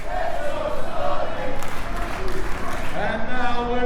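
A wrestling crowd at a Pro Wrestling Malta event roars and cheers steadily, a dense, rolling wash of voices and applause heard under a commentator talking over it.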